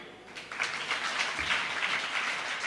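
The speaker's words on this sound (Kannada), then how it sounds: "ಈಗ ಕ್ಲ್ಯಾಪ್ ಹೊಡಿಬೇಕು" An audience at a spiritual discourse at the Puttige Math breaks into applause, a dense wash of clapping that starts after a brief quiet moment and holds steady, moderately loud, to the end.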